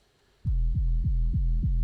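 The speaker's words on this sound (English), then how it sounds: "And then I faded in a gabba kick" A gabba kick drum fades into a filtered electronic music track, entering after a quiet moment as a heavy, booming thump repeating about every third of a second with a long bassy tail.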